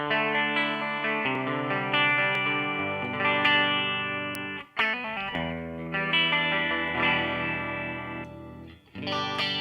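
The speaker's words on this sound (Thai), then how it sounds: "เดี๋ยวลองฟังเสียงคลีนจากตัว อา a r t e c 12K ก่อนนะครับ" Electric guitar fitted with an Artec 12K pickup, played on a clean tone: sustained, ringing chords and single notes, loud and close, with two brief breaks between phrases.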